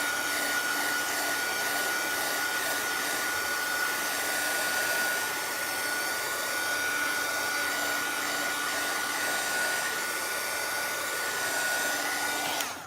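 Hair dryer blowing on a wet shaker box craft piece, a loud steady whooshing hum with a constant motor whine held for the whole stretch, no talk.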